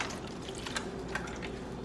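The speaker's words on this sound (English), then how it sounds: "So now we're gonna pour some milk over our bread" Milk poured over layered bread for capirotada makes a soft, steady liquid splash and trickle, close by and brief, with a few small thumps and no speech.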